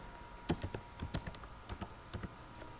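Keys clatter on a computer keyboard while a search for MS Word is typed from the Windows start menu, a short burst of close, quiet clicks in uneven rhythm with no talking.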